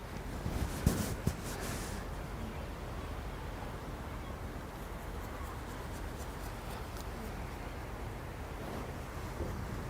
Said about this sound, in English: See the waves hitting off the wall there.